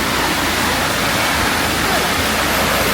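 A river rushes steadily past a picnic spot at Hulu Langat, its broadband churning water noise loud and continuous throughout, like a small waterfall close by.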